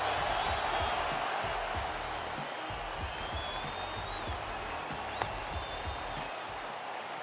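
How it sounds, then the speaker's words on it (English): A roaring stadium crowd cheers and claps throughout a match in the Don Bradman Cricket 17 video game, loud and continuous with faint whistles and shouts, as someone talks over it. "Crowd's gone mad."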